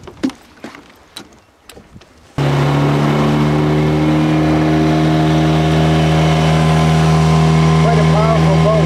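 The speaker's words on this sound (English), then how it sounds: "Quite a powerful boat." A few brief knocks and bumps give way to a loud, steady motorboat engine drone that holds strong and close to the end, with faint voices underneath.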